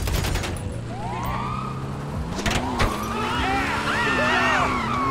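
Gunfire rattles at a police vehicle in GTA Online, short bursts of shots cracking over a continuous car engine drone while a siren wails and sweeps nearby.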